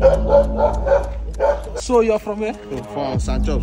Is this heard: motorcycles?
no